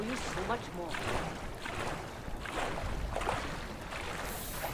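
Boat moving across water in Far Cry 4, with rhythmic surging swooshes of water and wind repeating about once a second, moderately quiet and steady.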